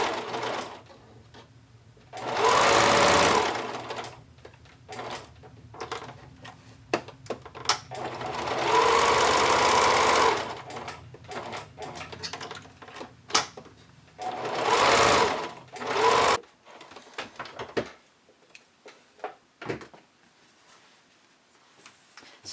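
Domestic sewing machine basting together two fabric layers of a high-waist bikini bottom and its lining, running in three long steady bursts separated by pauses with small handling clicks and rustles.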